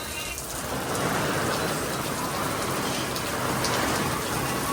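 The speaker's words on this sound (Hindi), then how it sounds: "कितनी तेज़ बारिश हो रही है।" Heavy downpour during a violent storm, a dense continuous hiss of rain pounding surfaces close by, steady and loud throughout with no voices.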